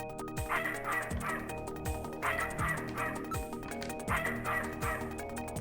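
Repeated barks from a dog in the Snatcher video game, arriving in short rhythmic bursts over steady game music with no talk.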